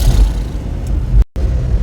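A car engine revs on and off the throttle to get moving on a snowy road, giving a loud, close, low rumbling drone. Near the end it cuts out briefly and then returns.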